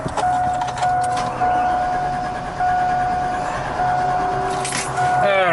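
Chevrolet Silverado truck engine held at open throttle, a steady loud mechanical roar with a constant whine running throughout, close to the microphone.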